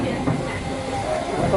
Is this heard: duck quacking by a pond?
no